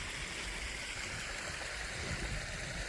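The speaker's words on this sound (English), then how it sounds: "I guess, this little creek." A small creek along a coastal trail in Cupids, Newfoundland, flows with a steady, soft rushing hiss that stays even and fairly faint throughout, with no voices.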